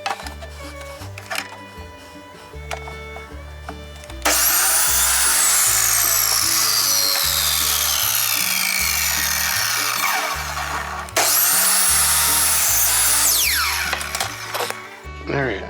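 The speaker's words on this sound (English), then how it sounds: "So I'm going to go ahead and cut it off here and square it up" A power saw cuts a wooden plank for a carburetor lamp base for a VW Beetle, with a loud, sustained cutting roar that briefly stops and restarts, after quieter handling noises and knocks at the start.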